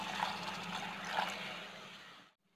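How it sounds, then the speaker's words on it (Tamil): Water is poured into a pan of spiced egg gravy masala, making a soft steady liquid splash that fades out and stops abruptly, fairly quiet with no talking. "இப்போ தேவையான அளவு தண்ணி சேர்த்துக்கலாம்."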